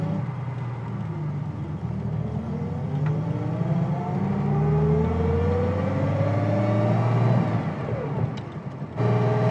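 A 1956 Mercedes 300SL Gullwing pulls away, its engine note rising steadily in pitch through acceleration, heard loudly from inside the cabin, with a brief dip near the end.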